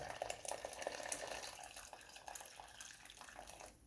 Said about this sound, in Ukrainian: Води я лию вище від рису.